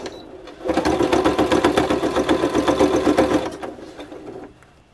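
A sewing machine stitches a jacket seam through black and red fabric in one steady, fast run of close needle strokes lasting about three seconds, then slows and stops, leaving a quiet background.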